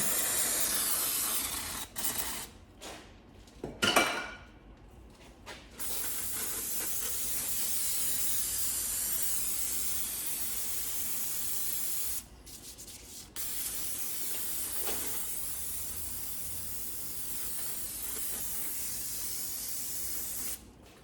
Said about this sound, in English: I'm going to clean it all off with some brake clean.